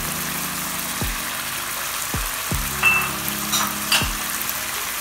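Chopped tomato hits hot oil in a frying pan, where potatoes are already cooking for a noodle dish. A steady loud sizzle follows, with a few sharp splatter pops and soft scrapes, up close and without talk.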